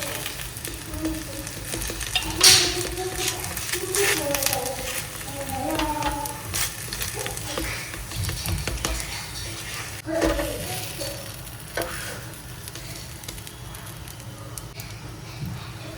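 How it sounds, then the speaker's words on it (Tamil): Roti mixed with onion and green chilli fries in a pan, giving a steady close sizzle and crackle with occasional stirring scrapes and faint voices in the background. "பாருங்க எப்படி பொரிஞ்சோண்டு வருதுன்னு சத்தம் கேட்குதா உங்களுக்கு?"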